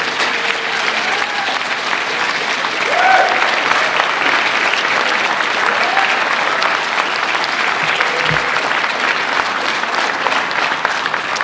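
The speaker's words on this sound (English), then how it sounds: "a big round of applause for these students for the hard work." Loud, sustained applause from an audience at a high school recognition event for top-ranked students, dense clapping continuing evenly for over ten seconds with a brief swell, a few faint voices under it.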